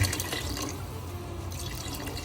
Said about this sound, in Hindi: अब आप इसमें 2 गिलास पानी के डाल के आप प्रेशर लगा दें